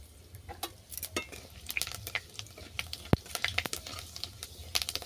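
Dried red chillies and five-spice tempering fry in mustard oil in a kadai, a soft sizzle broken by scattered ticks, pops and the occasional sharp clink of a stirring spoon, close and fairly quiet with no talk.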